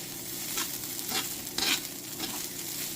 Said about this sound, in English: I don't know how long I'm going to have to stir this